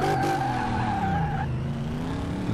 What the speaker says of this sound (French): Le son du moteur c'est encore plutôt raisonnable.